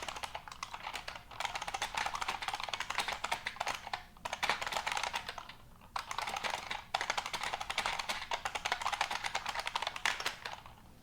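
Rapid, continuous clacking from a heavy, loud mechanical computer keyboard being typed on nearby, in several sustained bursts separated by brief pauses, with no one talking.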